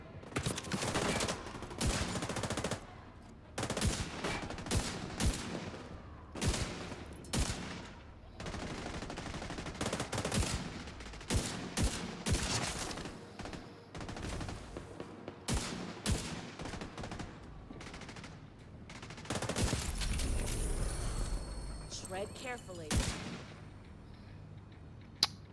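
An exotic weapon fires in The Division video game: a dense, steady run of loud gunshots and bursts with brief gaps, plus scattered impacts, over about twenty-five seconds, with no talking.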